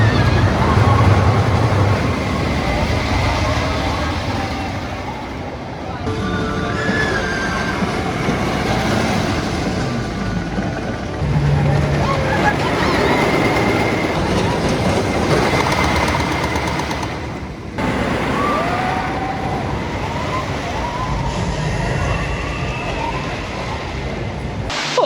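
Riding the Wickerman, a GCI wooden roller coaster at Alton Towers, brings a loud continuous rumble and clatter of the train on wooden track, with surging roar, rattling and brief screams or voices along the run.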